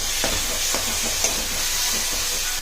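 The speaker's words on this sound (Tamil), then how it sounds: "தக்காளி ஆட் பண்ணி நல்லா வதங்கட்டும் ஃப்ரெண்ட்ஸ்." Chopped tomatoes and potatoes sauté in a pan for green dal curry, giving a steady close sizzle and hiss with a few soft stirring scrapes.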